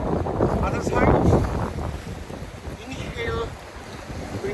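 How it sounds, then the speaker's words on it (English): Strong gusting wind buffets an open rocky outdoor spot in hot weather, roaring and rumbling loudly in uneven surges with no talk. "very windy, good for the balance"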